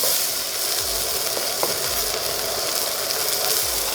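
Tomatoes with garlic and salt sizzle steadily in a frying pan, a close, even hiss broken by a few low scraping sweeps of stirring.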